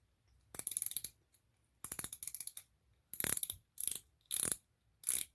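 Drag on a budget ice fishing reel clicks in rapid ratcheting bursts as it is tightened, six short separate runs with quiet gaps between them, close and crisp.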